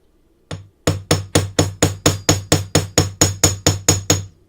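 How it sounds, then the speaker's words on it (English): A chasing hammer's peen side strikes metal to flatten a small spot while forming a decorative S hook, one lone hit followed by a steady run of about fifteen loud, sharp, evenly spaced ringing blows, close up with no talk. "I'm going to take the peen side of my chasing hammer, and I'm going to just hammer just a tiny little bit in the center here"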